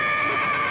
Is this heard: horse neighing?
yes